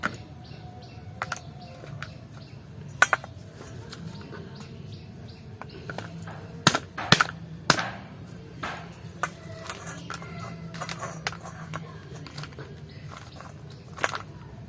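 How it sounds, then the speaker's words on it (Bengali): A stone pestle crushes a hardened homemade papaya sugar candy, giving scattered sharp knocks and gritty cracks at an uneven rhythm, close and moderately loud over a quiet room. "নোড়াতে এইভাবে গুঁড়ো করলে কিন্তু গুঁড়ো হয়ে যাচ্ছে"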